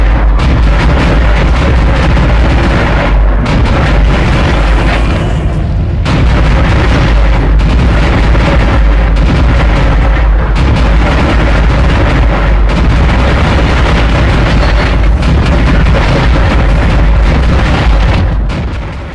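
ADS cannon firing during a Dead Space boss fight, a loud continuous barrage of deep booming blasts and bursts layered over rumbling game sound, with no talking.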